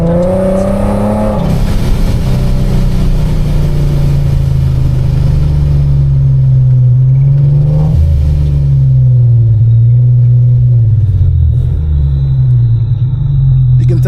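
A supercharged Infiniti G37x making over 600 wheel horsepower drives on the road, its engine producing a loud, steady low rumble from inside the cabin, with the pitch swelling and easing as the throttle changes.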